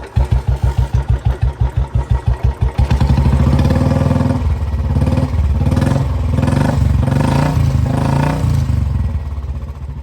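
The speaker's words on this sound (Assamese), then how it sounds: "বাইকখনৰ আৱাজটো শুনিব দেই" Motorcycle engine starts with a steady rhythmic chug, then opens up into a loud, continuous running roar that holds close and full for the rest of the stretch, with no talking.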